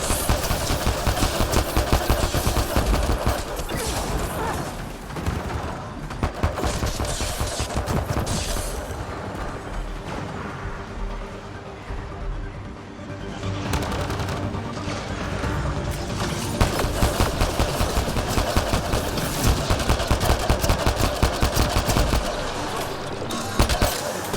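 Gunfire in the sci-fi shooter game Mass Effect Andromeda: dense bursts of rapid automatic shots and mechanical clatter run almost continuously and loud, with a brief lull near the middle.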